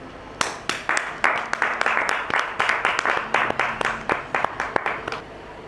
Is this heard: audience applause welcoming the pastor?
yes